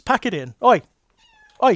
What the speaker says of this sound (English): That's my cat, and she's having a go at another cat outside.